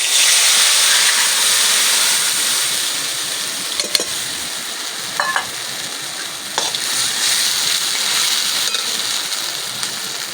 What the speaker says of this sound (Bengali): এবার আমি এর মধ্যে দিয়ে দেবো সুজির এই ব্যাটারটা